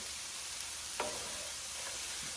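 Vegetables softening in a hot pan for beef stew, a steady close sizzle with occasional stirring scrapes, alone and even throughout.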